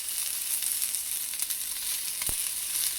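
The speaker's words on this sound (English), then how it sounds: "You're going to stir fry the garlic a little bit. And then we're going to add some of these bean sprouts." Garlic and bean sprouts stir-frying in hot oil make a steady, close sizzle with crackling pops and a brief scrape of stirring near the end, with no voices.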